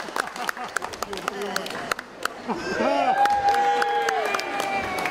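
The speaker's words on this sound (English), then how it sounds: "Big round of applause for Alan," A comedy gig crowd in Bolton claps and cheers for an audience member, scattered sharp claps swelling into a louder mix of cheering and whoops, with voices calling out over it.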